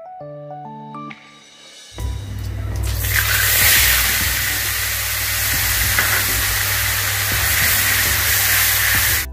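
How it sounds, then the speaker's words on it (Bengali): Onions sizzle and fry loudly in hot oil with cumin and a little salt, a dense steady crackle that bursts in after a few quiet seconds of low tones and keeps going to the end. "এবার পেঁয়াজটা আমি খুব ভালোভাবে কষিয়ে নেব।"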